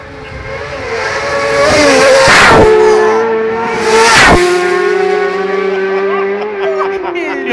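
Road racing motorcycles scream past at close range at the Tandragee 100 road race, two sharp loud passes a couple of seconds apart with falling engine pitch and a sustained high rev.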